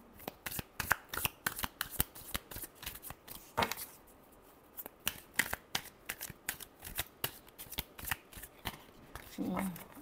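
Tarot cards are shuffled by hand in a quiet room, giving a steady run of soft, crisp flicks and slaps that close with a brief riffle at the end.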